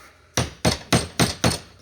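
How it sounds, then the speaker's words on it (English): Five sharp hammer blows on metal, on a 2008 Pontiac Torrent's corroded battery terminal, ring out at an even, steady pace, each strike loud and close with a brief ringing decay. "And then I can take my hammer if I want to"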